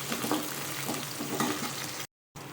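Small shallots sauté in oil for a vegetarian curry, giving a continuous moderate sizzle with light stirring scrapes. The sound drops out briefly near the end and then resumes.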